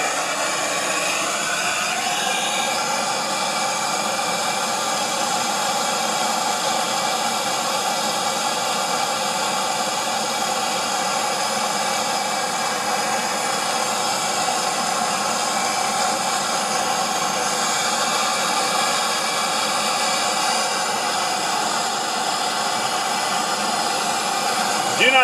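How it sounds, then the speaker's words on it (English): A torch roars with a steady, loud broadband hiss as it heats rusted original brake line fittings on a 1975 Lincoln Continental, a constant rushing flame noise running unbroken and close throughout. "We get our torch."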